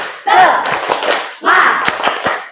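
A class of children perform the rhythmic Indonesian 'tepuk semangat' spirit clap, with sharp hand claps in two short bursts mixed with loud group chanting voices, close by.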